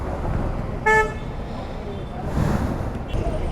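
A traffic jam in McLeodganj: one short, sharp horn toot rises over a steady rumble of idling vehicles and road noise, with a faint murmur in the background.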